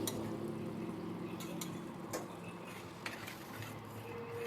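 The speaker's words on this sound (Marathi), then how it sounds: "या स्टेजला इथे मी शिजलेली डाळ मिक्स करत आहे." Soft stirring and scraping of cooked lentils in a pot, with a few light clinks of a utensil against the rim, steady and close.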